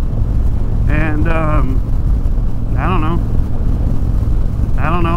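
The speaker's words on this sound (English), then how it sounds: "it's windy, like really windy." Strong wind roars constantly across the microphone while riding a 2020 Harley-Davidson Softail Deluxe without a windshield, a loud, steady buffeting rush under the engine, with a voice speaking briefly over it several times.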